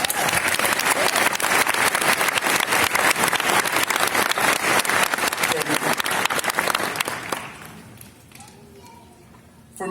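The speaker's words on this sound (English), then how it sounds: "Let's give them a round of applause." A law school graduation audience applauds in a loud, dense burst of clapping that lasts about seven seconds. The clapping then fades away, leaving a quieter hall with some voices.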